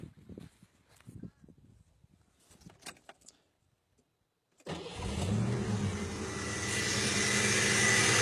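A Ford engine fitted with a new Motorcraft TFI ignition module (EEC-IV) cranks and catches, then runs loudly and steadily close by after a few seconds of quiet background noise.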